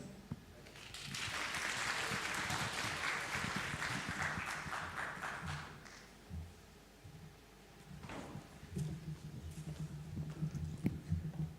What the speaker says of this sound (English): There is no way I can speak with these claps.